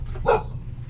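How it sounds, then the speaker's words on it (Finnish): A single short dog bark heard from some distance in a slum setting, one quick yelp over a low background rumble. "Tossa on koira kato"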